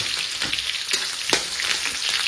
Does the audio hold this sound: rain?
no